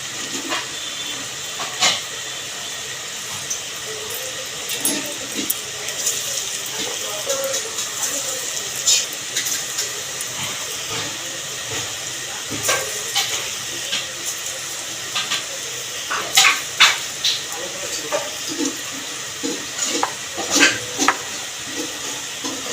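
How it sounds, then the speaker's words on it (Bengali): Flattened round taro (maan kochu) fritters deep-frying in hot oil, a steady loud hiss and sizzle with scattered pops and crackles throughout. "পিট করে লাল লাল করে বড়াগুলো ভেজে নেব"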